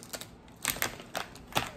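Scissors snip through plastic blind-bag packaging for a Mario Odyssey toy, giving a few quiet, crisp cuts in an uneven rhythm, close up with no talking.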